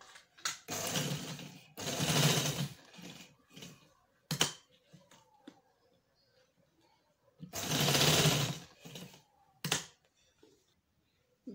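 A sewing machine stitches fabric for a poncha in two loud, close bursts of fast mechanical whirring, separated by quieter handling clicks and pauses.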